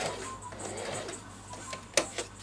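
A sewing machine stitching around the neckline of a child's dress, a soft continuous mechanical whir with a few sharper clicks near the end, close and fairly quiet with no talking.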